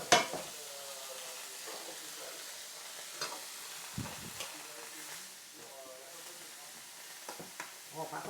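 Flamiche filling, a leek-style mixture, being stirred in a hot pan: steady soft sizzle and hiss with occasional scraping clicks of a spoon, close by, while faint speech runs underneath.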